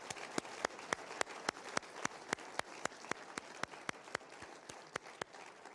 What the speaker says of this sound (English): let's give another round of applause for our wonderful benefactor